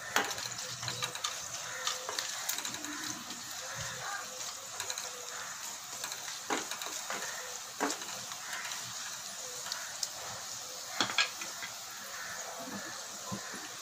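Three dried red chillies fry in a small amount of oil in a pan for mutton kulambu: a steady, faint crackling sizzle, with scattered clicks and light scraping throughout, with no talk.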